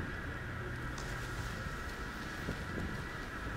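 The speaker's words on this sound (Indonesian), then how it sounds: "Angin di sini cukup kencang." Strong wind at the top of a ski slope roars as a steady, dense rush of noise, buffeting the microphone continuously with no voices.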